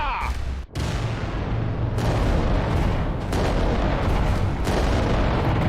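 Rockets fire in the game Adeptus Titanicus: Dominus: a dense barrage of loud, booming blasts and rumbling explosions that overlap continuously and drown out most other sounds.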